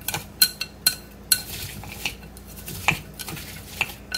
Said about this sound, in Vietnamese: trộn đều lên hết như vậy